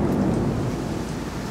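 Rain pours outdoors with a deep thunder rumble in a brief, loud stretch of steady wash.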